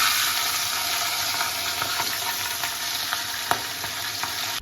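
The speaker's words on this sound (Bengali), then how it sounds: "বাকি মাথা দুটো ভেজে নিচ্ছি" Fish heads fry in hot oil for a mud-style fish-head and rice dish, giving a loud, continuous close sizzle with a few light clicks and no talk.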